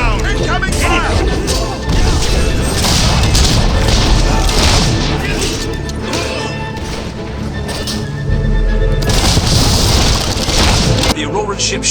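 Heavy incoming-fire explosions rumble during a Fable 3 battle, a continuous loud barrage of booms, crashes and splintering debris lasting the whole stretch, with voices shouting over it.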